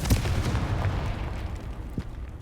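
A Confringo blasting spell goes off in the Hogwarts Legacy video game, a rumbling burst of explosive booms with deep low-end thuds and a lingering crackle, loud and close.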